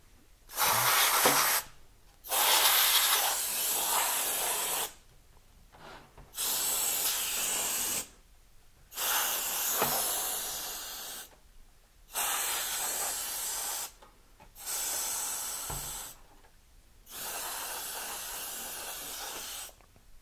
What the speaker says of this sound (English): Got some canned air here.